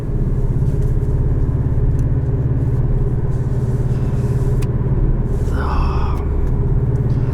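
A 2018 Porsche 718 Cayman S with a manual gearbox gives a steady, close engine rumble throughout, a low droning note with no talking over it.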